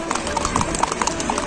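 Horse hooves clip-clopping on a ride through the Pahalgam market in Kashmir, a steady irregular patter of close hoof beats under the riders' talk and street bustle.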